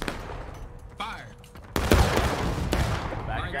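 Musket volley fire in the video game War of Rights, Civil War-era line infantry shooting together: a sharp burst at the start, then a loud, dense crackling volley with overlapping reports and lingering rumble, amid game voice chat.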